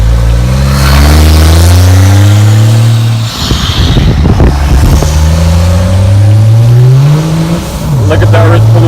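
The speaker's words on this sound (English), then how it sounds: "I got this clown in front of me with his diesel truck polluting the earth." A diesel truck just ahead on the road revs loudly and climbs through its gears in rising sweeps, a brief rough burst breaking in midway before the engine pulls steadily up in pitch again.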